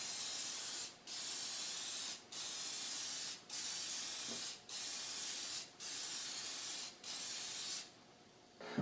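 Spray coating is applied to instrument cluster parts from an aerosol can in a steady sequence of about eight hissing bursts, each roughly a second long, separated by brief pauses.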